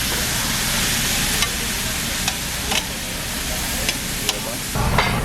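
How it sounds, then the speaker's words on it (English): Loud continuous sizzling of beef brisket on a hot grill at a Korean BBQ buffet, with occasional sharp clicks and scrapes of utensils. "That sizzle."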